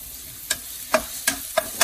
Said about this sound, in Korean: 같이 온도가 올라오게끔 파기름을 내면서 볶아줍니다.